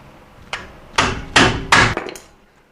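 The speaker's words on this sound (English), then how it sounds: "I'm going to use an impact screwdriver here" An impact screwdriver struck with a hammer to loosen screws on a 94 Nissan Pathfinder gives four sharp metallic blows, a light first tap then three heavy ringing hits in steady rhythm, close and loud.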